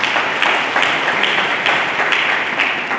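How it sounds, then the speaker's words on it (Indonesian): Congregation applause during a church sermon, loud, continuous clapping from a crowd in a hall, steady and dense for the full few seconds. "Mari kita sambut dengan tepuk tangan"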